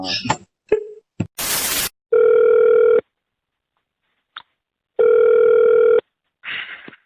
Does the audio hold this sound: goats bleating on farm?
no